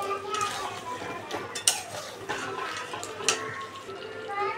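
Dhaniya chicken with cashew paste stirred in a pot, a continuous soft scraping and clinking of utensil against metal, close and quiet, with a couple of sharper knocks.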